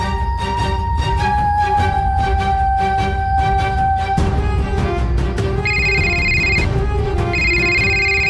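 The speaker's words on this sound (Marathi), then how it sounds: "फोन फोन आला." A telephone rings with a steady electronic ringtone, repeating tonal chirps over a busy background, loud and continuous throughout.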